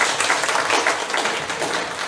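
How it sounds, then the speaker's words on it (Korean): A church congregation claps together during a Sunday service in a dense, steady burst of applause that fills the room, with no voices on top. "격려의 박수 드리시기 바랍니다"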